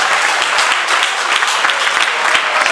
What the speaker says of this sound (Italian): Che fate un applauso a queste alzatrici di cartello.